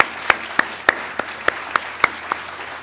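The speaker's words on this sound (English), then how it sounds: "Let's give a round of applause." A small meeting audience gives a round of applause for record holders, just a few scattered, distinct hand claps spaced irregularly over a soft room murmur rather than a full ovation.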